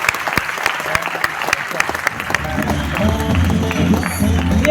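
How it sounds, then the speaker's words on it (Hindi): An audience at a large celebration event claps loudly, with dense, sharp clapping at first that swells into sustained applause mixed with crowd noise and some voices. "तो एक बार जोरदार ताली आप सभी अपने लिए बजा सकते हैं।"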